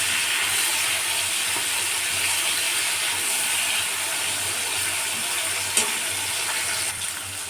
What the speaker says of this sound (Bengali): এইভাবে ভালো করে সিমগুলো ভেজে নিতে হবে।